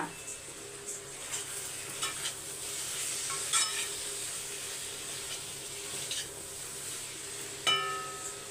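Green chilies and curry leaves stirred in a hot pan, a faint, steady sizzle broken by a few soft scrapes and clinks of a spoon against the pan.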